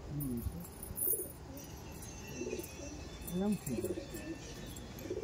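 A pair of aggressive Andhra pigeons coo in low, throaty bursts that repeat through the scene, close by, over a steady background hum.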